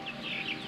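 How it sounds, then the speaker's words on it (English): Chickens clucking softly at a distance over a steady outdoor background hum in Artvin, Turkey, continuous low murmuring from the flock. "she's taken on the duty of letting the chooks out early morning"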